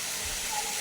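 Katla fish pieces hiss and sizzle as they are dropped into hot oil in a pan, a steady close frying sound with no speech.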